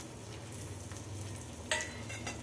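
Asafoetida and dried red chillies frying in oil for a wedding-style vegetable kootu, a quiet continuous sizzle with a brief sharper scrape or crackle partway through.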